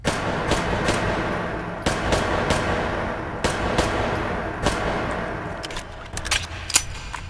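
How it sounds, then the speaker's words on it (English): Modded USP pistol firing in Fallout, a game gun sound: sharp loud shots spaced a second or more apart over a steady rumbling game background, with a brief rattling burst near the end. "This is the USP."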